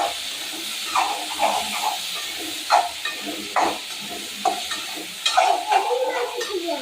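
Tomatoes with salt, added to softened onion and garlic, sauté in a pan, making a soft continuous sizzle broken by repeated scraping stirs from a spoon, close and fairly quiet.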